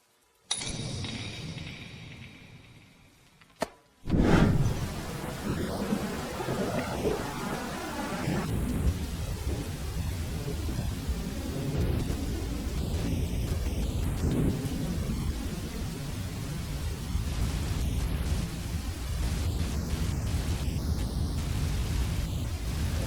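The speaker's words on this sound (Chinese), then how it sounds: "天色太晚了，外面在下雨" After a brief quiet start broken by a sharp click, heavy rain pours down outside late in the evening as a dense, continuous hiss, with low thunder rolling through it.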